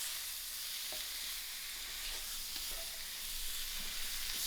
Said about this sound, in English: I'll give this a good mix and allow it to fry.